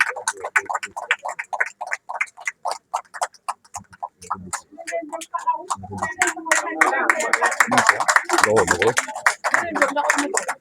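An audience at a political party gathering claps in a steady rhythmic beat that swells into denser applause, with voices rising among the claps.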